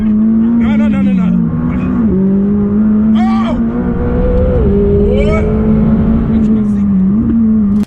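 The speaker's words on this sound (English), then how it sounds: "From the moment the car revved up" A car driven by a Formula 1 driver with an ordinary passenger aboard revs and accelerates hard, its loud engine note climbing and dropping repeatedly with gear changes. Startled voices break in over the engine.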